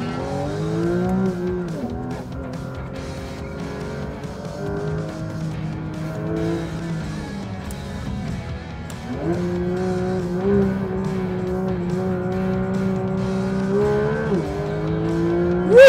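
A Porsche GT3 RS lapping a race track, its engine note climbing through the gears with clear drops at each shift, loud and sustained from inside or near the car.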